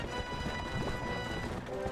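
Hooves clip-clop in a steady, quick rhythm as a horse travels at normal riding speed in The Legend of Zelda: Twilight Princess, fairly quiet and alone with no talk.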